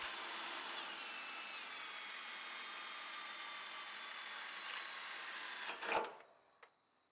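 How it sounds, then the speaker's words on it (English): Power drill with a 4mm stainless steel bit boring holes, a steady high whine that fades as it winds down, then a short sharp clunk and a brief knock. "Drill the holes with a 4mm stainless steel drill bit."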